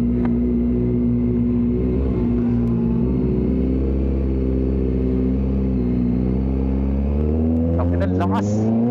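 A Kawasaki ZX4RR motorcycle fitted with an underbelly resonator exhaust drones loudly and steadily at cruising revs with a smooth, sustained engine hum, joined near the end by brief higher-pitched sounds.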